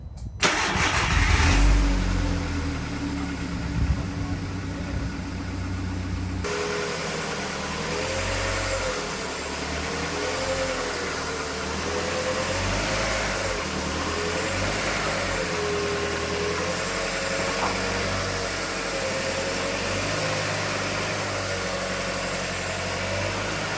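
A Mk4 Volkswagen Golf engine cranks briefly and catches, then settles into a steady idle with small rises and dips in revs, close and fairly loud throughout.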